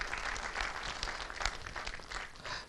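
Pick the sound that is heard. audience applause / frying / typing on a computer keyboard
audience applause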